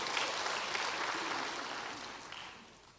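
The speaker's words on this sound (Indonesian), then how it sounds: "Mau tepuk tangan buat Tuhan saudara?" Church audience applauding during a sermon, a dense steady wash of clapping that slowly fades out toward the end.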